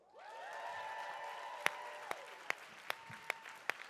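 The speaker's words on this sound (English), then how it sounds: "Stop clapping." An audience at a conference plenary session claps in a soft, distant wash, while a whistle-like tone glides across it and a few sharp, evenly spaced clicks ring out near the end.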